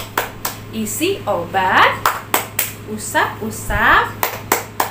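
Sharp hand claps in a quick, patterned rhythm from the children's doctor clap game for preschool and kindergarten, mixed with a voice chanting along in short phrases.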